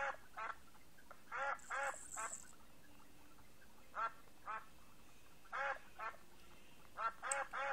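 Duck-like quacking bird calls from the Rubby Bird phone app, sounding in short clustered bursts of two or three squawks separated by pauses, fairly close and moderately loud over a faint background hiss.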